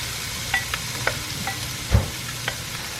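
Potatoes fry in a coated pan with a steady, dense sizzle. A few light clicks and scrapes of stirring sound over it, close up, with no talking.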